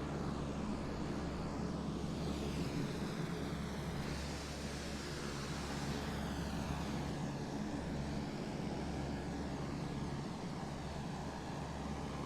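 Four turboprop engines of a C-130 Hercules drone steadily through a climb in Microsoft Flight Simulator, a constant loud rumble with a low hum and a gently shifting whine.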